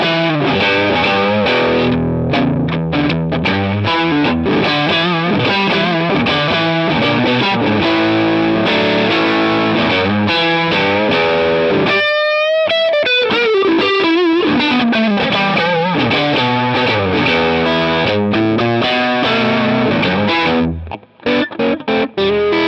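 Heavily distorted electric guitar roars through the lead gain channel of a Two Rock TS1 amplifier, playing dense sustained lead lines with a sweeping bend midway, loud and saturated throughout before a brief dropout at the end, without speech.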